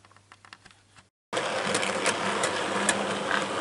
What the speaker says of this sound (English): that will be the Westinghouse pump on the locomotive continuing to pull vacuum